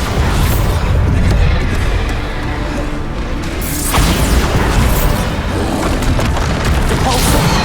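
Bombarda spell explosions in the video game Hogwarts Legacy, loud booming blasts with splintering, crashing debris, two big bursts a few seconds apart amid continuous combat rumble.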